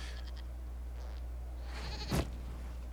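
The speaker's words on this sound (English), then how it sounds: "we discovered this man attacking the building with a goat." A goat bleats once in Dragon Age: Inquisition, a short nasal cry near the end over a constant low hum, preceded by a few faint chirpy game sounds.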